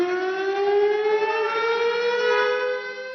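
A civil defense siren wails at the state's Netaji birth anniversary ceremony on Red Road, Kolkata; a loud, sustained tone with rich harmonics glides slowly upward in pitch, with no speech over it.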